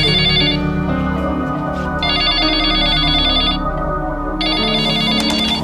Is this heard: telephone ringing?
yes